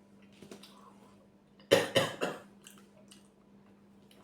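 A quiet room, then a short burst of two or three close coughs, followed by faint rustling.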